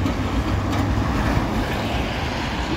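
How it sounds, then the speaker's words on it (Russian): An old tram rolls past on a snowy road beside a frozen lake, a steady low rumbling and grinding that stays loud and close throughout, mixed with traffic noise. "Идет трамвайчик старенький такой наш."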